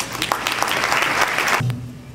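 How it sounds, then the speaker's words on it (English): An audience at a Toronto marathon dinner applauds, a brisk patter of many hands that carries steadily for under two seconds and then cuts off sharply, leaving a quiet room tone. "A nice round of applause for Dr. Chris Woolham."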